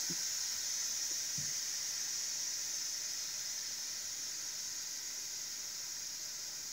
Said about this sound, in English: And the steam's coming out.